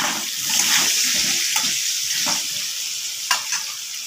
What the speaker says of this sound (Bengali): এবার আলুটা ভালো করে ভেজে নেব।